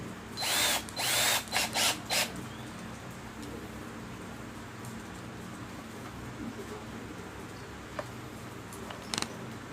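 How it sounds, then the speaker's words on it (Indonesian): Stanley 18V cordless hammer drill set to drill mode rather than torque, boring into camphor wood with a 6 mm bit: several short bursts of high whining drilling close by, then quieter handling noise with faint clicks. "kita coba dengan mengobor kayu kamper ini dengan mata bor ukuran"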